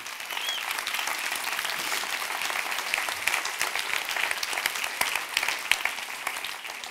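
Conference audience giving sustained applause, a dense, even wash of many hands clapping from start to finish, moderately loud with a few sharper claps standing out.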